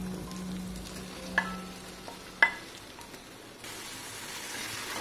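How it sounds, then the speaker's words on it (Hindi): Marinated potatoes cooking in spiced yogurt masala for aloo biryani over a high flame, a soft steady sizzle with a couple of sharp clinks from a spoon against the pot. "अब हम फ्लेम को कर लेंगे हाई और अच्छे से जो इसमें दही गला हुआ है उसके कुक होने तक हम इसको पकाएंगे 2-4 मिनट।"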